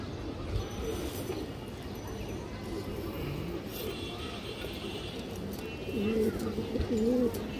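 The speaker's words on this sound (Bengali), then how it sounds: "এই যে দেখেন খুবই কালারফুল কবুতর, বড় মাথা, বড় শেপ" Bagha pigeons coo low and throaty among other birds, with soft background chatter and noise throughout and a couple of clearer, louder coos near the end.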